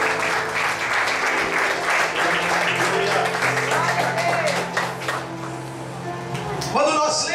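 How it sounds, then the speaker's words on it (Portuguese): A church congregation applauds during a service, with dense, steady clapping filling the room, music or singing tones running beneath it, and a few voices rising over the noise near the end. "Toda a igreja pode aplaudir aí"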